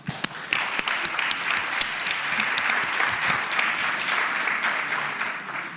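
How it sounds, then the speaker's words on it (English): Applause in the Virginia Senate chamber, a steady wash of clapping hands from many people that holds throughout, with a few sharper individual claps near the start. "let's give her a hand of applause"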